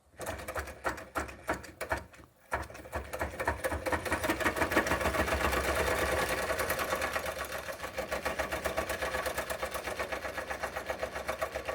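A Doll 360/3 ship's steam engine, restored and fired up for the first time, runs with a fast, steady mechanical clatter after a few hesitant starting chuffs, close and continuous with no talk.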